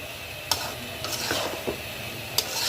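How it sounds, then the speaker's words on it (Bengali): Pumpkin and egg being stirred in a frying pan, a soft continuous sizzle with a few light scrapes and taps of the spatula against the pan, close and fairly quiet. "নেড়ে চেড়ে মিশিয়ে নেব।"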